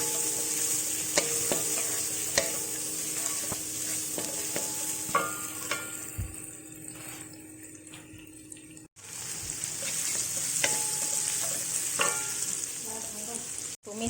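Ingredients for butter-fried shrimp stir-fried in a pan, a continuous bright sizzle broken by spatula scrapes and taps, briefly quieter midway before the frying picks up again, with no voices.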